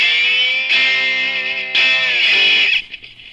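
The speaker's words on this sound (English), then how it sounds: "So it's with an overdrive and some reverb on it." A cheap $42 kit electric guitar played through overdrive and reverb rings out in two sustained distorted chords, each bright and buzzing, the second cut off with a short reverb tail.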